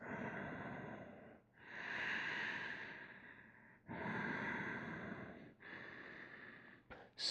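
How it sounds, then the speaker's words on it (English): Slow, steady breaths during a yoga class, with long drawn inhales and exhales repeating in a calm rhythm, close and fairly soft, with no talking. "A few more breaths."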